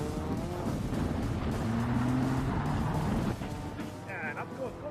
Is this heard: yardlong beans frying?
no